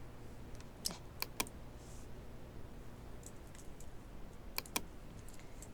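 Faint, scattered clicks of computer keyboard shortcut presses during Photoshop editing, a few isolated taps and short double taps over a quiet room hiss.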